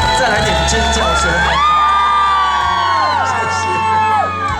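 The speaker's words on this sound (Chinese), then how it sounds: "再来点尖叫声" A concert crowd screams and cheers at an outdoor community event, many high voices whooping and yelling together in loud, rising waves over a low sustained musical hum.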